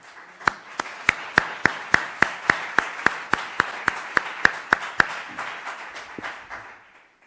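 An audience at a church talk on the history of charity claps for the speaker in a steady, evenly spaced rhythm, sharp and fairly close. The claps fade out toward the end.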